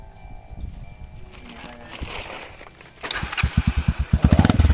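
Motorstar motorcycle engine running nearby, starting with faint rumble and clatter, then growing into loud, rapid pulsing exhaust beats as the engine revs.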